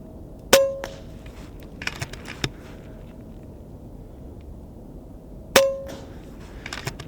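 A small airgun pellet strikes a steel plate target twice, several seconds apart. Each hit is a sharp, ringing metallic clang, with faint rattles from the rack in between.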